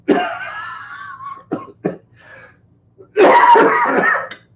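Several coughs in a row: a longer rasping cough, two short sharp ones, then a loud harsh burst after a pause.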